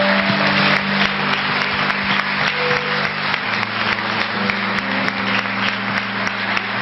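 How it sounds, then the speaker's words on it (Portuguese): A church congregation claps together in a steady, rhythmic beat, loud and close, with an organ or keyboard chord sustained underneath throughout. "Vamos dar mais uma salva de palmas a Jesus?"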